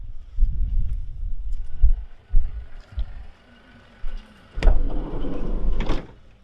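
Sliding side door on an electrician's small van rolling open, with a sharp latch clack, a rumbling slide and a second knock near the end, preceded by low thumps and shuffling.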